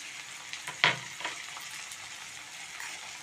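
Ginger paste tipped into onions frying in a pot on a lowered gas flame, giving a steady close sizzle with a sharp burst of spattering and stirring as the paste hits the oil.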